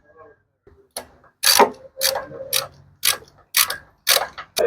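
Spark plug being tightened on a Bajaj CT 100 motorcycle with a hand tool, giving a series of sharp, close ratcheting clicks in short bursts, one after another with brief pauses between.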